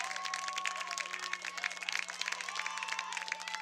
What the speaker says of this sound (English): Good, strong applause here.